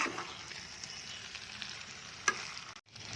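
Chicken pieces for an almond chicken dish sizzle quietly in a hot pan, a soft, steady fry with a stir near the end before the sound briefly cuts out.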